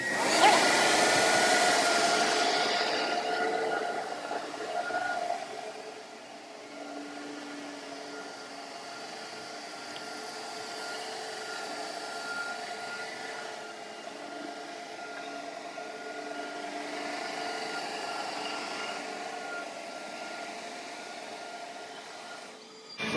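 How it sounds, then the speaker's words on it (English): A Tom-Cat Carbon floor scrubber running, scrubbing and vacuuming, heard as a loud, steady whooshing drone with a strong hiss at the start, then a slightly quieter, continuous motor-and-suction roar that holds throughout with no talking. "I'm going to turn the vacuum on. And then it's going to continue to put down water and scrub"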